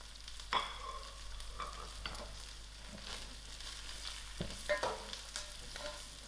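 Masala spices tossed into a pan of frying green chilies and curry leaves: a soft, steady sizzle with a few sharp utensil clacks and stirring scrapes, fairly quiet, with no voices.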